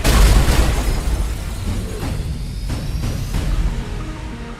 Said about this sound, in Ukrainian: Бомба пішла.